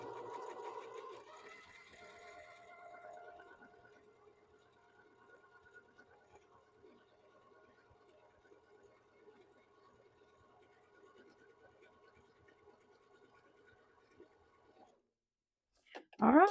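A Bernina sewing machine stitches a buttonhole with a quiet, steady rapid needle chatter that runs for several seconds and then stops, followed by a short handling clatter; a voice is heard softly near the start.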